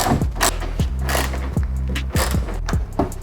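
A 1/4 socket ratchet undoes screws on a 1999-2004 New Edge SN95 Ford Mustang during a side reflector lens replacement, with repeated close clicking ratchet strokes in a steady working rhythm.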